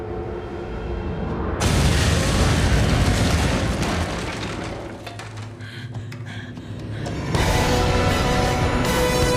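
A Dalek returning in a Doctor Who episode, heard as a loud sustained explosive rumble that surges in suddenly, dips, then swells again near the end.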